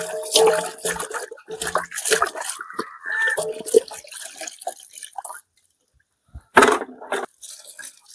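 Raw chicken being rinsed in water, with splashing, dripping and sloshing in uneven bursts, a quiet gap, then a final splash, close up with no speech.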